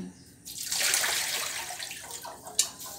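Rinsing water poured off a pot of rice, a steady close splash and trickle of liquid that swells and then gradually thins out, ending with a brief splash.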